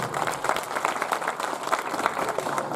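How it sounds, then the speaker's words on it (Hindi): At a Hindi comic poetry gathering, the seated crowd gives a steady burst of applause, many hands clapping together in a lively, even wash with sharper individual claps poking through. "एक बार आशीर्वाद की तालियां बजाएं।"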